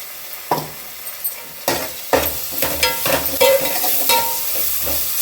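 Ginger garlic paste, 1.5 small spoons, sautés with well-fried onions in a pan for prawn biryani, giving a steady close sizzle broken by repeated scraping stirs of a spoon against the pan, with no talking.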